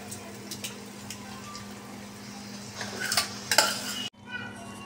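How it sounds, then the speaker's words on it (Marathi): Cooked pav bhaji vegetables being mashed with a masher in a pan, giving soft scraping and clattering against the metal under a steady low hum, with a burst of louder clanks near the end before a brief cutoff. "आपण जी भाजी शिजून घेतली होती ती चांगली स्मॅशरने स्मॅश करून घ्यायची"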